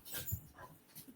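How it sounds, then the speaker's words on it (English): Dogs play somewhere in a home, giving short faint whimpers and yips in a brief, quiet burst off in the background. "And my dogs are playing in the background."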